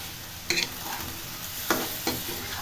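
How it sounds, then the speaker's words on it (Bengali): Chicken meat frying in oil for biryani, a steady sizzle close by, broken by a few sharp stirring scrapes. "এখন মুরগির গোস্তটা ভেজে নিচ্ছি"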